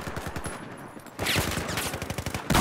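Rapid automatic gunfire in a shooter video game, a steady stream of close, loud shots with a brief lull before it picks up again, growing louder toward the end.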